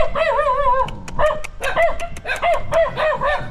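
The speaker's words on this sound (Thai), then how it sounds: "มาหลายเลยสุนัขหลายขนาดเลย" Several dogs of different sizes bark in a rural village, with close, loud, overlapping barks and yips coming in quick irregular bursts.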